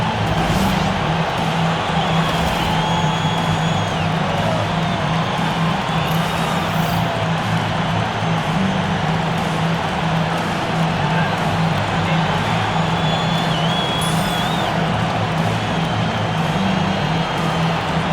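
A steady, loud arena crowd roar of applause and cheering fills an NBA 2K26 basketball playoff game, Portland Trail Blazers versus San Antonio Spurs, and carries on without a break throughout.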